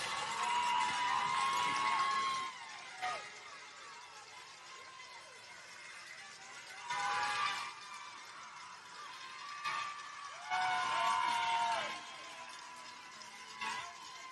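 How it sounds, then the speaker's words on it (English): A softball crowd cheers and calls out as people rise to their feet, loud swells of voices and shouts rising and falling in several waves through a busy, open-air din. "Crowd getting up on its feet."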